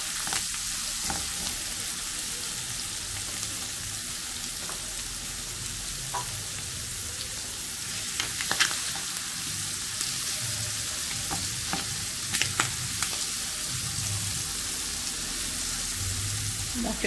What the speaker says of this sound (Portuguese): Dá uma fritadinha nessa cenoura também